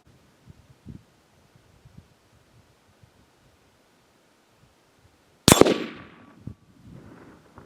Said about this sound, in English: Be shooting this steel spinner target from a distance of 100 yards with a 17 Hornet Superformance 20 grain VMAX bullet.